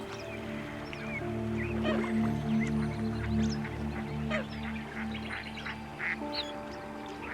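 A lone duck in the Arctic quacking repeatedly, nasal calls mixed with honking waterfowl and other birds in a busy, steady outdoor chorus.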